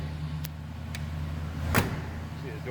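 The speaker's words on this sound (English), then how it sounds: "See the doors close nice and solid." Doors of a 1939 Plymouth sedan street rod shut with a few solid thuds, the last one loudest, over the low steady idle of its engine nearby.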